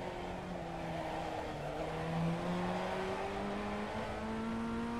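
A Ray FF1600 open-wheel race car in iRacing at Winton Motor Raceway holds full throttle, its engine a steady, rising buzzing drone with a faint whine above it.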